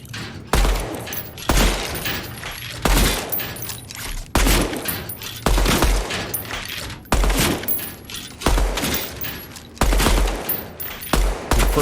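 Rifle fire in the shooter game Deadrop comes in repeated short bursts of loud, sharp shots, roughly every second and a half, with brief pauses between volleys.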